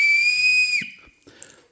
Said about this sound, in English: So imagine if I blew this whistle here.